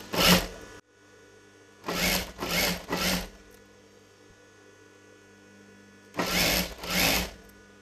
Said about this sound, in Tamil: இந்த மாதிரி ஃபோல்டு பண்ணி ஸ்டிச் பண்ணிக்கிட்டே வரலாம் ஃபுல்லாக.